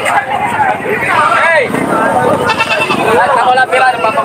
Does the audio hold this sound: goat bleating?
yes